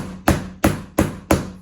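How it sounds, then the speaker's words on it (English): Four sharp hammer strikes land on Shaw Floorté Pro Series 6 flooring planks as they are knocked together, evenly spaced about a third of a second apart, close and loud with no talking. "You notice I was pretty much hammering right like this"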